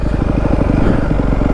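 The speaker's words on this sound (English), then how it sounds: "those little throttle pulls right there already sound really good" Yamaha WR250F dirt bike fitted with a new YZ exhaust, a brief burst of throaty, pulsing engine burble from a short throttle pull, loud and close.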